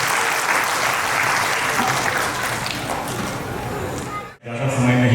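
An audience at a school event applauds for an animation school, loud sustained clapping that breaks off briefly near the end before a voice comes in over the hall.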